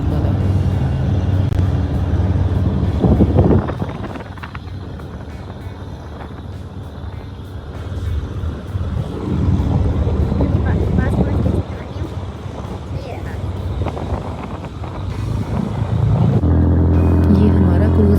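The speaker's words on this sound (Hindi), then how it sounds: "ये तो क्रूज़ जाने लगा है हमारे साथ वाला" Cruise boat pulling away on the Bosphorus in Istanbul, a steady low engine rumble and water wash under gusty wind noise, with voices talking over it throughout.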